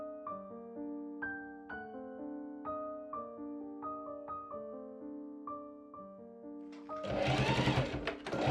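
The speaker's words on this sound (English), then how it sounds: "I serge along that seam" A serger sewing along a sweatpants seam, its dense mechanical whir bursting in loudly near the end after a long stretch of quieter melodic tones, with no talking.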